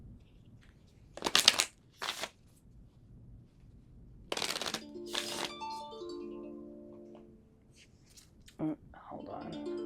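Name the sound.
tarot cards being shuffled and pulled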